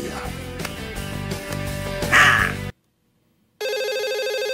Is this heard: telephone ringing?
yes